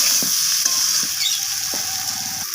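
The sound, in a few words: stir-frying mourola fish with tomato and potato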